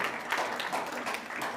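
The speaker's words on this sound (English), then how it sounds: "I think you can clap hands now." A church congregation claps during a Sunday service, a short burst of scattered hand claps blending into a soft wash of applause.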